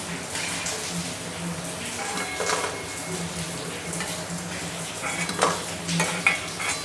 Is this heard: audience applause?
no